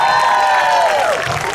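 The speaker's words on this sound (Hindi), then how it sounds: "एक दफ़ा इनके लिए भी तालियां हो जाती प्लीज" Audience at a Pakistan Independence Day celebration event, a loud burst of crowd cheering and clapping with whoops and rising voices over a continuous roar, fading slightly toward the end.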